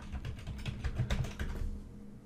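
Keys clatter steadily on a computer keyboard as a MATLAB command is entered at the command prompt: a quick run of close, light clicks with no voices.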